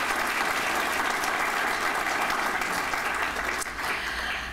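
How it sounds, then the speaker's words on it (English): An audience at the 2018 AFSA awards ceremony applauds an honoree, a dense, steady wash of many hands clapping close and loud that holds throughout and eases slightly near the end. "Let's give him a round of applause"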